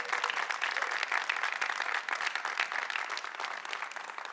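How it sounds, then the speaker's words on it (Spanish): A church congregation claps steadily and fairly loudly for several seconds, a thick continuous burst of applause with no talk over it. "Un aplauso a Jesús"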